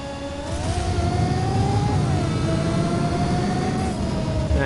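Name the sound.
car nitrous boost in the video game Just Cause 4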